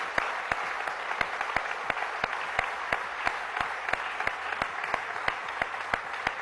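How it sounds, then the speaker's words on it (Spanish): An audience applauds a warm moment among friends, a steady wash of many hands with distinct sharp claps ringing out in an even rhythm over the crowd. "Vamos a dar un aplauso a este momento con los amigos aquí."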